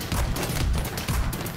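Gunfire from the shooter game Battlefield 3, a dense burst of loud, close shots in rapid succession with no pauses, filling the short moment without any talk.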